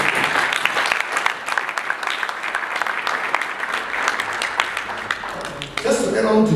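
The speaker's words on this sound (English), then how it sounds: "We give him a round of applause." Audience applause at a crowdfunding and equity regulation panel session, dense clapping sustained through the clip before fading near the end as a voice begins over it.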